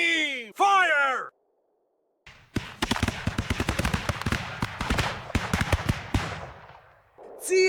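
Musket volleys crackle in rapid, ragged bursts of many overlapping shots in an American Revolution strategy video game, following a shouted command and ending with another voice at the close.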